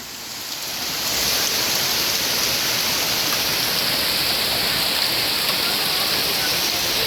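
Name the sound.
hailstones falling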